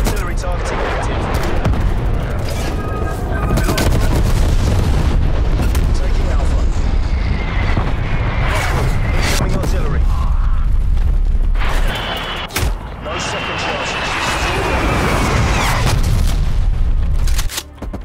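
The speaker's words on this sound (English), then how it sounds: "Hostile artillery targeting active." Artillery strikes in Call of Duty Black Ops Cold War roar as a loud, continuous wall of booming explosions and crackling blasts, with a sharp impact midway and game voices under the din.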